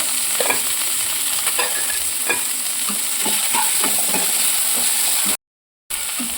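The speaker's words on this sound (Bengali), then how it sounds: "আলুটাও দিয়ে দিচ্ছি ডুমুরের মধ্যে।" Fried potatoes and figs stirred together in a frying pan for a Bengali vegetarian village dish: a constant oily sizzle under repeated scraping and clinking strokes of the spatula, close and moderately loud, with no voices.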